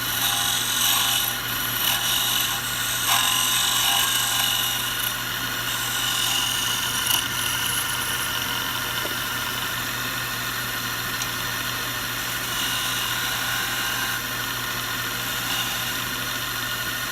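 Wood lathe with a gouge cutting into a spinning wood piece, a steady, loud continuous whir and scraping hiss running throughout without pause.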